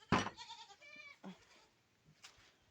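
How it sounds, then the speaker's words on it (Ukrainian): Goats bleat loudly nearby, several wavering calls in quick succession, then a fainter bleat after a short pause. "кози мене бачать і ще більше кричать"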